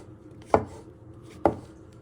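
Two crisp knife chops cutting mushrooms into little pieces on a board, evenly spaced about a second apart, close and clear with nothing else around them.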